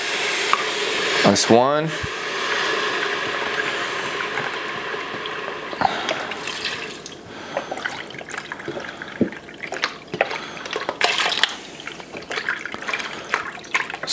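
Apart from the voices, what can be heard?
pouring broth into Instant Pot to deglaze caramelized onions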